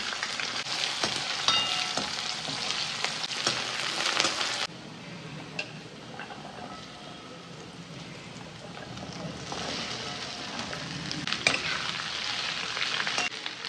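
Urad dal, dried and green chillies, onion and curry leaves frying in hot oil, a loud steady sizzle that drops to a quieter crackle midway and then builds again.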